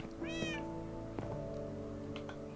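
Cat meowing in a cozy farming video game, a single clear rising-falling meow near the start over soft background music, followed by faint game chimes.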